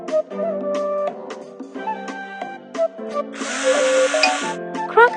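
A screwdriver buzzes while repairing a toy crocodile in a mobile doctor game, a short whirring power-tool burst over bright, tonal game chimes and music.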